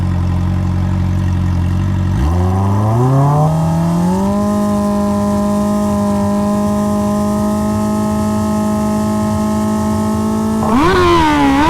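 Hayabusa drag bike launching on a pass, its engine climbing sharply from idle into a sustained high-rpm wail, then a final rev near the end, loud and close.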